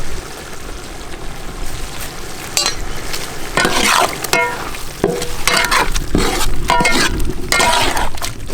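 Loud frying sizzle as ground masala for rabbit curry is stirred, a spoon scraping and clinking against the pan, steady and close throughout.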